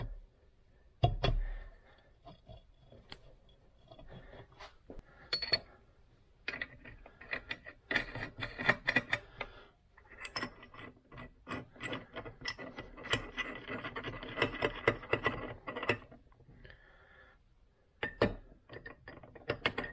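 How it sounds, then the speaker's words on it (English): A crankshaft puller is worked on a 2010 Kawasaki KX250F engine case, producing irregular bursts of metallic ratcheting clicks and clanks with short pauses between them, close by and with no voices. "we may need to use our crankshaft puller for it"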